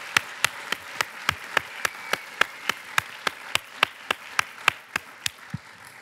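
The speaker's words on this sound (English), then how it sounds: "First of all, big round of applause." Audience members at a startup talk clap in a sharp, evenly spaced rhythm, with about twenty distinct claps over six seconds above a soft background murmur.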